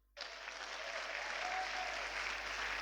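A church congregation breaks into sudden, sustained applause and cheering for Jesus, a dense wash of clapping that starts abruptly and holds steady at moderate level to the end, with no single voice standing out.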